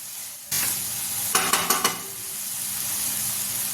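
Turmeric and chili powder are stirred into a curry frying in a pan. A steady sizzle starts abruptly, and a short burst of scraping stirring strokes sounds close over it, with no talk.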